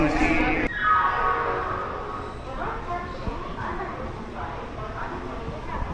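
The Haldibari Super First Express runs near Bardhaman on the Kolkata line with a steady rolling rumble and a brief horn-like burst at the start, while a voice talks over it.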